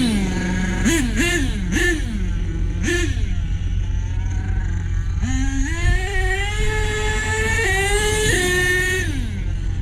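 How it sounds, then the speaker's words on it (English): A well-running pickup truck engine settles into a steady, smooth idle, with several quick throttle blips early on and rising revs in the second half, close and loud throughout. "that idle just purrs. Lays right down like it's supposed to."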